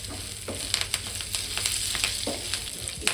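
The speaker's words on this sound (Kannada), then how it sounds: "ಈಗ ಎಲ್ಲ ಫ್ರೈ ಆಗಿದೆ. ಈಗ ಲಾಸ್ಟಿಗೆ ಕೊನೆಯಲ್ಲಿ ಕರಿಬೇವು ಹಾಕೋಣ" Curry leaves crackling in hot oil over a pan of masala poha, a close, continuous sizzle with scattered sharp pops and spatters and no voices.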